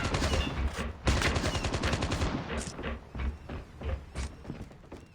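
Rapid bursts of gunfire from COD Mobile, the mobile shooter game, crackle loud and near in dense volleys with short gaps, like automatic weapons trading shots through an intense firefight.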